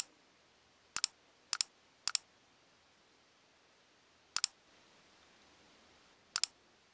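Sharp mouse clicks, mostly in quick double pairs, snap at irregular intervals over a quiet room background while software is being installed on a PC.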